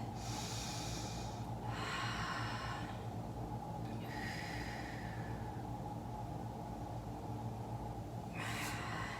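Slow breathing during a Pilates stretch, with several long airy breaths, each lasting a second or two, separated by short pauses. The breaths are close and fairly soft over steady background hiss, with no talking.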